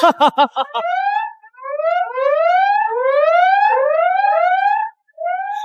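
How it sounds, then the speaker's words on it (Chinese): An electronic alarm siren wails in repeated rising sweeps, loud and close, after a brief burst of pulsing tones at the start. "警报！ 警报！"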